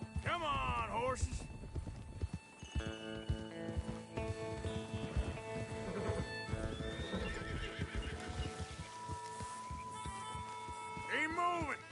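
Horses in the video game Red Dead Redemption 2 whinny loudly at the start and end while hooves clip-clop steadily throughout, with a droning musical tone underneath.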